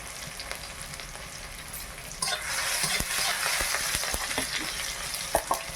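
Ginger and garlic drop into hot oil in a pan in a village home kitchen, and a steady close sizzle swells sharply partway through, crackling loudly with occasional spatters and stirring clicks.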